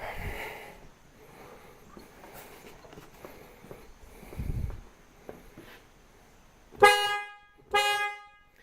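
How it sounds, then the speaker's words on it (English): Two short, loud honks from a Mercedes ML320 horn near the end, following a stretch of quiet mechanical clunks and rattling. "let's see what kind of a difference the horn sound makes when I hit the steering wheel now"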